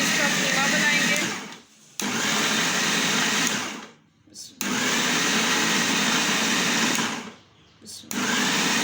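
Electric chopper mincing chicken with onion, green chilli and spices, a loud, close whirring motor run in three long bursts separated by short pauses.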